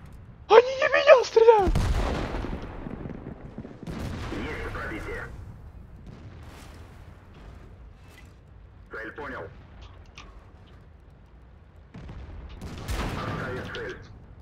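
Tank cannon shots and shell impacts in the World of Tanks video game, several sharp booming bursts spaced across the clip amid engine rumble and battle noise, with a player talking in between.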